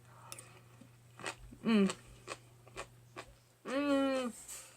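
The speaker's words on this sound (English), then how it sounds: "That skin is so crunchy and juicy, and it's not tough at all." Two loud, crisp bites into crunchy horned melon (kiwano) skin, with quieter clicks and mouth sounds in between.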